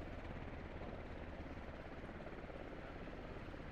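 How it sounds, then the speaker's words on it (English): Helicopter in the video game SquadOps, a steady rotor drone with dense low thumping that holds at an even level throughout, close and continuous with no talk over it. "Decrum has landed the helicopter."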